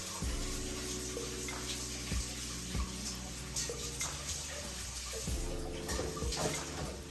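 Washed rice poured into water in a pot while making rice porridge, with splashing, swishing water and occasional clinks of the pot, close and continuous.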